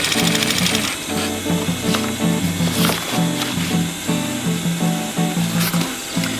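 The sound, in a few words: sewing machine stitching webbing on a rollup bag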